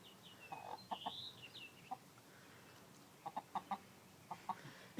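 A broody hen gives soft, scattered clucks, a few short low notes spread across the moment, fairly close but quiet over faint background noise.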